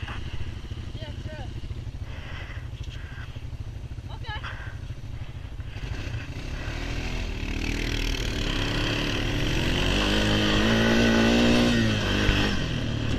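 An ATV four-wheeler rides across an open field, its engine droning steadily and then swelling louder and higher from the middle onward as it speeds up, with faint muffled voices underneath.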